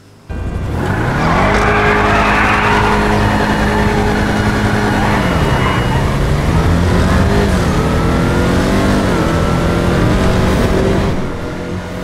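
A V8 race car engine from the Vigero ZX in GTA Online, built as a NASCAR Garage 56 Camaro Le Mans car, roars loud and close, rising through revs and shifting gears, with tire squeal mixed in throughout.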